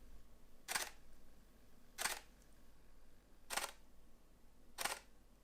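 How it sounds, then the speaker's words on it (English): Canon EOS R5 mirrorless camera firing its mechanical shutter: four separate soft clicks spaced about a second or so apart, quiet and close, with near silence between them. "I am pleasantly surprised how quiet even the mechanical shutter is. It sounds soft and unobtrusive"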